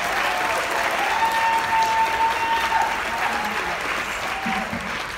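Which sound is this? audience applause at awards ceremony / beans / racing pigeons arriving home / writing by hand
audience applause at awards ceremony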